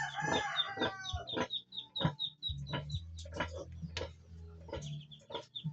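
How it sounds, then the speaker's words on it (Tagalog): Chickens cluck and call repeatedly at close range, including a large mother hen with chicks, with a rooster crowing among the busy farmyard bird sounds in Cavite, Philippines; no talking. "Malaking inahin."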